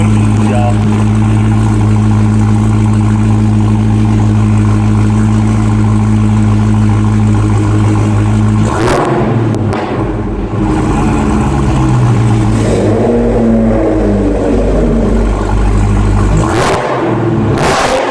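A modified Dodge Hellcat with aftermarket intake and exhaust roars loudly close by, holding a deep sustained rev before dropping off and surging again in several throttle blips and decaying rumbles.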